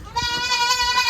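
A single goat gives a drawn-out, nasal bleat close by, wavering slightly over faint background rustle.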